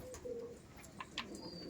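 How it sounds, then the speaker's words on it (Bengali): Teddy pigeons cooing softly at close range, a few low, rolling coos over faint background rustle and a brief chirp. "পায়রাগুলো দেখান দেখি"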